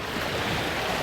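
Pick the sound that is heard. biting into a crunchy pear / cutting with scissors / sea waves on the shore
sea waves on the shore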